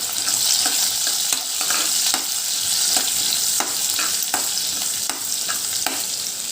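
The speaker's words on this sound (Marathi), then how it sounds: "मिडियम फ्लेमवर आपल्याला लसूण आणि अद्रक फ्राय करून घ्यायचं आहे" Crushed garlic and ginger frying in oil on a medium flame for green moong dal curry, a continuous bright sizzle punctuated by regular spatula stirs and scrapes, close and loud with no talking.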